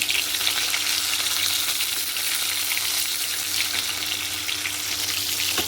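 Fish frying in hot oil, with a whole bata fish among the batch, gives a steady, close, even sizzle and crackle that holds for the whole stretch without a break and with no talking.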